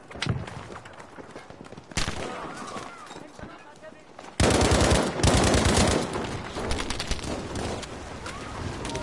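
Rapid machine gun fire in a video game, bursts of loud automatic shots starting softer then growing denser and heavier after a few seconds, continuing steadily to the end.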